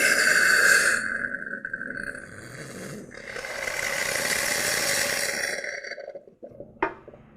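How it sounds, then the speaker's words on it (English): Pump Saver pushing antifreeze through a pressure washer pump while winterizing it: a steady, fairly loud hissing, whooshing spray that rises, dips and swells again, then cuts off with a short clunk near the end. "when I press the button on top of the Pump Saver, it'll pump the antifreeze through the pump"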